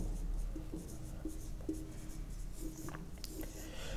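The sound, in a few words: writing the heading new terminology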